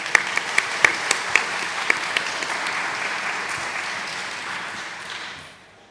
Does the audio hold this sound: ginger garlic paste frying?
no